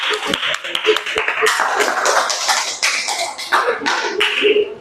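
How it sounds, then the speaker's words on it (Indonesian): A classroom of students clapping together before a presentation, brisk and fairly close, mixed with voices, continuing throughout. "Kita tepuk tangan dulu untuk mereka"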